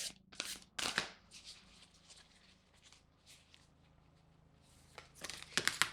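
Tarot cards are shuffled by hand in quick, soft riffling bursts that pause and resume, with a louder flurry of shuffling near the end, close and fairly quiet.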